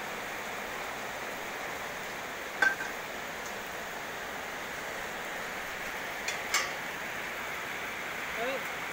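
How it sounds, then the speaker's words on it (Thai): Steady rain falls at an outdoor welding site, a continuous faint hiss with a few light clinks and taps scattered through it. "วันนี้มาทำงานกับบรรยากาศฝนตกครับ"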